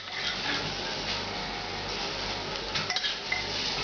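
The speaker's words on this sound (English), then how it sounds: "Give this a quick stir." A spoon stirs thick beef bourguignon with sautéed mushrooms in a pot, a steady close scraping and sloshing with a few light metallic clinks near the end, no talk.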